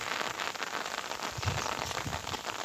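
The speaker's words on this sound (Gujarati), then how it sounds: "વરસાદ આવી ગયો" Rain falling steadily on a surface, a soft, continuous crackling patter with scattered heavier drops, fairly faint, with no talk.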